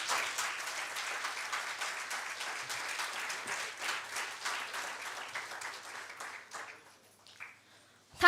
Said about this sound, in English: extend a standing ovation accompanied by your heartfelt applause in honor of our esteemed chief guest